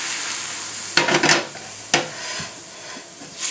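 Onions sizzling in a pan for French onion soup as they are stirred, a soft steady fry with a few louder scrapes and clatters of the utensil against the pan, close up and without talk.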